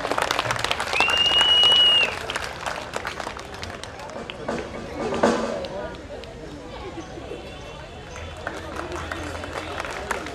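Applause rises from a festival audience at a science and culture event. The clapping is strongest early on and then thins, and a speaking voice on a public address system runs over it.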